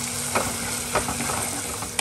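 Shallots, green chilli and ginger sautéing in coconut oil, a continuous bright sizzle with several light stirring scrapes spaced through it, close and fairly loud.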